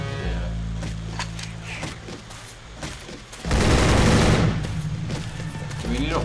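Gunfire from a gun in Jurassic The Hunted, a loud sustained burst of rapid automatic shots midway, with scattered shots and people talking around it.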